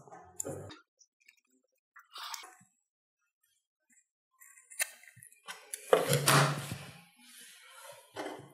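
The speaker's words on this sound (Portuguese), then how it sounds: "Vou cortar por cima da marcação." Scissors cutting fabric along a marked line for a cat-themed pad holder: short snips separated by pauses, then a denser run of cutting near the end, close and fairly quiet, with no talking.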